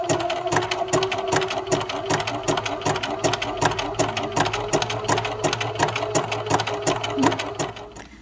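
A domestic sewing machine stitches flat ribbons together in a steady, rhythmic run of fast mechanical clatter with a low motor hum, close and moderately loud, easing off slightly at the end, with no voices.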